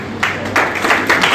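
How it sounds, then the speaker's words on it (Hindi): Audience applause at a formal honoring ceremony in Chhindwara, several bursts of clapping rising and falling, fairly loud and close. "जोरदार तालियां।"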